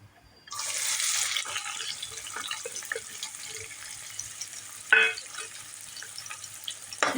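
Onion hits hot oil with cloves for chicken rassa, bursting into a loud, hissing sizzle that settles into a steady fry, with a clank of a utensil partway through.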